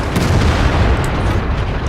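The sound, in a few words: tank gunfire in video game World of Tanks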